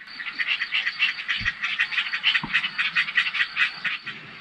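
Frogs at the Kopácsi-rét wetland croak in a dense, rapidly pulsing chorus that holds steady, with a couple of brief low thumps nearby.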